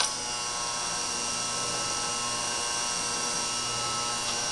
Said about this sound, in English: I'm going to demonstrate the power longitudinal feed on this lathe with a piece of about 3/4 inch Delrin